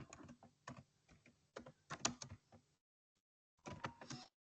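Computer keyboard typing in quick irregular bursts of clicks, close and fairly quiet, broken by a short pause before a final burst of keystrokes; no talking.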